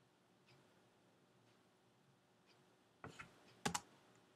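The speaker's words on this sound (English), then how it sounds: "I'm pressing enter to get the information on the screen" A computer keyboard key is pressed in a quiet room, giving a few soft taps and then two crisp, louder clacks close by near the end.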